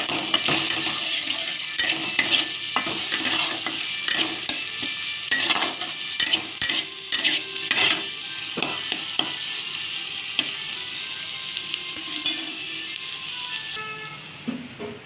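Tomato paste frying in a pan for a katla fish curry, with a steady hiss of sizzling and frequent stirring scrapes and utensil clinks against the pan, close and continuous.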